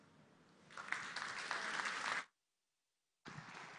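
Applause for Hugo Pereira at a public political forum in Tacna, a dense wash of clapping about two seconds long that cuts out into silence before starting again.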